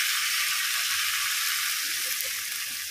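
Maggi noodles frying in hot oil with chilli flakes and garlic, a steady, loud sizzle close up that holds unbroken throughout, with faint stirring underneath.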